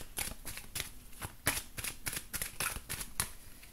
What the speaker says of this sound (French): Je remélange.